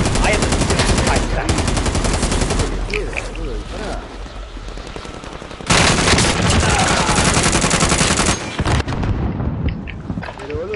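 Rapid machine gun bursts in a shooting video game, loud and close, repeating in long rattling volleys with booms mixed in, while players talk excitedly over the gunfire.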